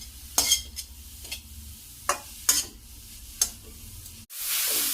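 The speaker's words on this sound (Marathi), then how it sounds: "चांगलं मस्त परतून घ्यायचा" Grated carrots for carrot halwa are stirred and sautéed in a pan over low heat, with a soft steady sizzle and sharp, regular scraping strokes. The sizzle swells loudly at the end, close up with no voices.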